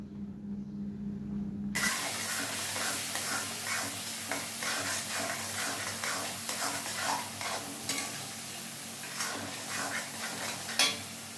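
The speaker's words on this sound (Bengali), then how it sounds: "আমি এখানে দু চামচ জিরে বাটা ব্যবহার করেছি আবারও ভালোভাবে কষিয়ে নেব" Cumin paste masala being stir-fried in a pan for a rohu fish curry, with continuous close sizzling and repeated scraping of a spatula against the pan.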